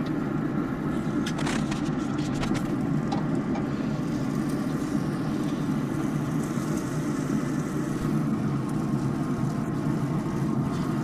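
A scooter engine runs outside at a steady idle, its even, mid-pitched drone continuing unbroken, with no voices over it.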